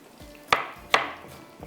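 A knife cuts through a large tomato with two sharp, close knocks against the board about half a second apart, followed by a fainter third tap.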